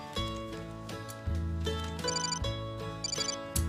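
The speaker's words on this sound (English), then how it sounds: "Phone." Electronic telephone ringtone in a Whirlpool Smart Range advert, a repeating melodic chime pattern in short bursts over a low sustained tone, clear and close.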